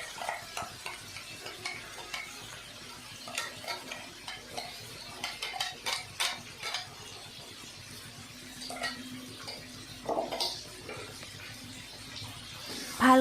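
Meat and potatoes are stirred in a pot with garlic, tomato and spice paste during Assamese broiler chicken cooking, producing a steady run of soft scraping and sloshing strokes with a faint sizzle underneath, close and moderately loud.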